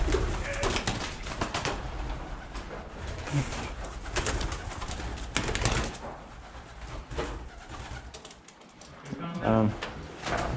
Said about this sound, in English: Fucking pigeon.